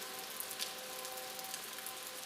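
Rain falls steadily in a soft, even hiss of drops on a surface, faint and continuous with no voices.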